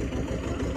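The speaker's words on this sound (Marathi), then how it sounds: "प्रणिता ट्रॅक्टर चालवते वाटतं." A tractor engine runs close by on a farm, a brief, steady low mechanical rumble with no voices over it.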